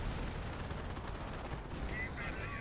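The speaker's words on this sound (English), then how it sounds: "New MG from an off-map combat group, no doubt." Machine gun fire from a Company of Heroes 2v2 tournament battle, a dense, continuous crackle of rapid shots mixed with other battlefield gunfire, steady and loud throughout.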